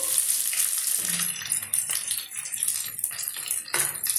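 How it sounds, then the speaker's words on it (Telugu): Mustard seeds, cumin and curry leaves sizzle and crackle in hot oil in a pan as a South Indian tempering for multigrain upma, a steady close frying hiss with small pops and stirring. "ఇప్పుడు మనకి తాలింపు చక్కగా వేగిపోయిందండి"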